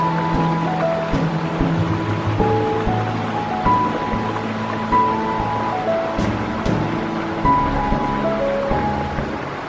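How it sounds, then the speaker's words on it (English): A small side waterfall in an Arizona canyon runs after overnight rain, a steady close splashing wash heard alone without talk. "Because of the rains last night, we actually have some of these side waterfalls flowing."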